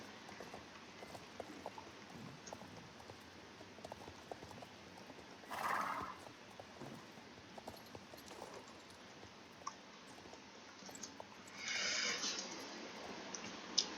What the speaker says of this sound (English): So we first started off with small jumps. And with a canter.